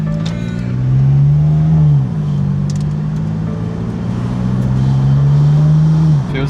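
BMW M4 being rebuilt, out on a test drive after belt work: a steady, close engine drone with a clear harmonic tone that rises in revs twice and then settles back, with no talking.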